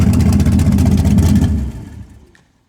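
A Camaro with a tight torque converter idles high, a loud, close rumbling engine drone that cuts off abruptly and fades into silence.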